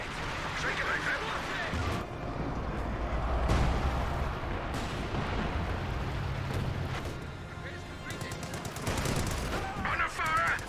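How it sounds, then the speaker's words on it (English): MG-34 machine gun fire in Company of Heroes 2, sharp bursts and rattling shots mixed with explosions and battle noise throughout, with voices talking over the combat. "MG-34 engaging the Sturm Pioneers"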